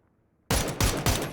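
Gunfire in the video game PUBG: after a short quiet moment, about four loud, close bursts of shots erupt in quick succession, each sharp onset followed by a brief ringing tail.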